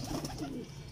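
Teddy breed pigeons cooing, a brief soft low coo heard close and faint over a quiet background, with no talking.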